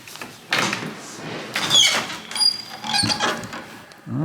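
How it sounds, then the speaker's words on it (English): A heavy old door on a 12th-century red-brick church in a Tuscan hilltop town swings open with creaks and scraping thuds, close by amid outdoor ambience. "door is open"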